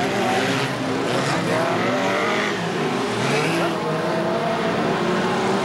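BriSCA Formula 1 stock cars racing at Boston in 1991: loud, continuous engine roar from several cars lapping the track, with rising and falling revs and tire noise, while a commentator talks over it.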